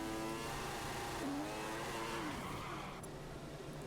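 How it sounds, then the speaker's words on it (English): F1 car engine in a racing video game, a high, buzzing engine whine rising and falling in pitch as it revs, steady and fairly loud throughout with no talking. "I was just kind of revving my engine."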